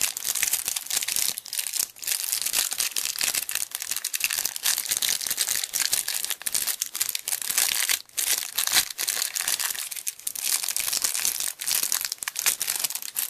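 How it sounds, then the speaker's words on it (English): Foil Pokémon card booster packs from a trainer kit box set are torn and crinkled open up close, with steady loud crackling and crumpling that runs without a break. "I'll open the cards though and see what we get in here."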